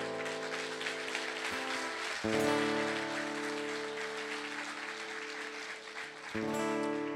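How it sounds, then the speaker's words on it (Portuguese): A church congregation applauds steadily, a dense wash of clapping laid over sustained keyboard chords that shift midway and again near the end. "Você pode aplaudir o Senhor por isso?"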